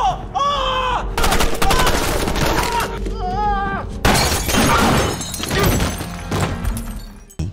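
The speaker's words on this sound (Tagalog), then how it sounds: "isang putok ng baril ang pumutok sa sahig na gawa sa kahoy" A gunshot fired through a wooden floor in a cabin, loud sharp bursts with shattering, splintering debris among tense film sound effects and music, no voices.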